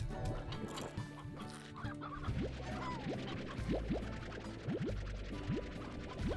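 Many video game chickens cluck and squawk continuously in Slime Rancher, close and busy, with short rising calls scattered throughout and no voices.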